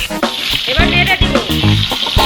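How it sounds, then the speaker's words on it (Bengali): Eggplant slices dropped into hot oil for Bengali begun bhaja, a loud close sizzle and crackle of frying that fills the whole stretch. "তেল গরম হয়ে গেছে, বেগুন দিয়ে দিব।"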